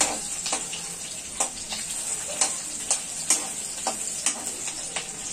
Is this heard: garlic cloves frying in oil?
yes